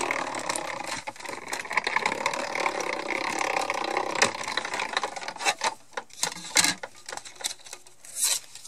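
A manual die-cutting machine cranked to emboss a sandwich of plates and an embossing folder, giving a continuous grinding, ratcheting rumble that breaks into uneven clunks and clicks toward the end, close up.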